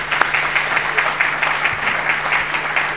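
Audience applause at an annual education report card event, steady dense clapping from a sizable crowd with no break, fairly loud.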